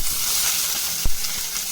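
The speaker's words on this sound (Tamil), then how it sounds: "எண்ணெய் விட்டு கடுகு தாளிச்சிக்கலாம்" Mustard seeds, curry leaves and onion fry in hot oil for a steady, close sizzle, with one sharp pop or spatter partway through.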